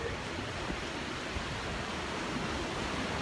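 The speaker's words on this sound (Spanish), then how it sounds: "Mira cómo están las olas." Ocean surf rolling onto a beach with a hurricane about 50 miles offshore, a steady loud broadband wash of breaking waves with no distinct individual crashes, no voices.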